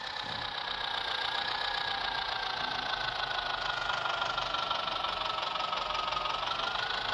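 In the Indian Tractor Driving 3D video game, a tractor engine idles in a steady, even drone with a faint whining tone on top. It holds unbroken throughout, with no voices.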